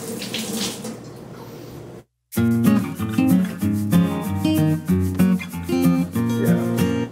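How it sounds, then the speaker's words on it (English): A tap runs steadily while hands are rinsed under it between cracking eggs for a simple egg dish, a close hiss lasting about two seconds before a brief silence and then music. "Then you want to wash your hands off."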